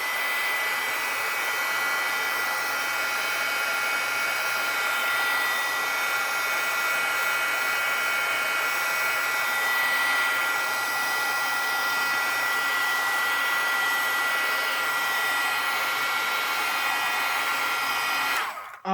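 Heat tool blowing steadily to dry paint on a scrapbooking tag, a loud, continuous close-up whirring hiss that holds for the whole stretch and cuts off abruptly at the end.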